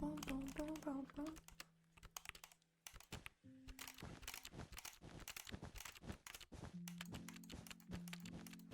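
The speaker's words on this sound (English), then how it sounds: "I left some keyboard and mouse sounds in the background" Computer keyboard keys and mouse buttons click in rapid irregular bursts during a Bedwars game, close and crisp, with faint game music tones humming underneath.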